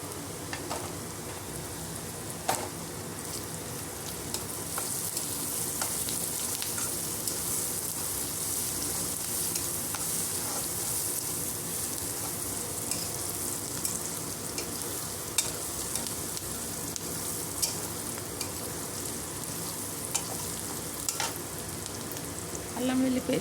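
Meal maker soya chunks fry in a pan with turmeric, giving a continuous close sizzle with occasional stirring clinks and scrapes, long and even throughout.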